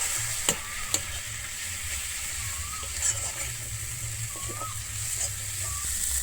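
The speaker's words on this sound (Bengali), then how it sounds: "আমি এরপরে দিচ্ছি হলুদ দিয়ে আমি আবার এখানে খুব ভালোভাবে কষিয়ে নেবো" Ground spices with Kashmiri chili powder and turmeric being stirred and fried in a pan, a steady low sizzle with soft scraping stirs and a few sharp clicks of the spoon against the pan.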